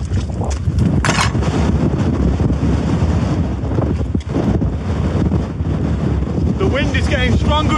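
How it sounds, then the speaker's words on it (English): Strong wind in a mountain storm with heavy rain roars and buffets the microphone continuously and loudly, with short gusting surges. A person speaks briefly partway through. "The wind is getting stronger and stronger"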